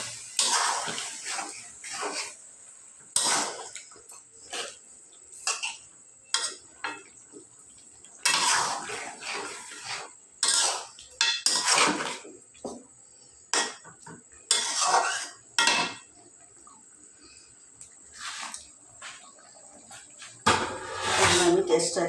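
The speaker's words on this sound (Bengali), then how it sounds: "এটা ভালো করে একটু কষাই নিই।" Boiled potatoes stirred into a chicken and tomato curry in a pan, with repeated metal spoon scrapes and clinks against the pan in irregular bursts, and someone talking between them.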